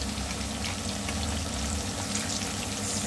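Sweet potato pieces frying in hot oil for a beef, sweet potato and okra dish, a steady, dense sizzle and crackle running loud and unbroken, close up with no talking.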